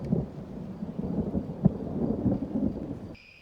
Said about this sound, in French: Et encore le tonnerre qui arrive.